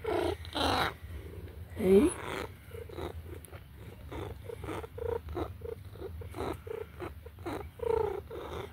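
A house cat purrs close up in a steady rhythmic rumble, with a few brief voiced meows or squeaks mixed in and a person speaking softly once.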